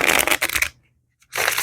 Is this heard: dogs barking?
no